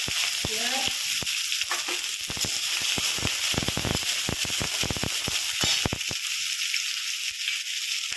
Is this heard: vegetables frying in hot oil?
yes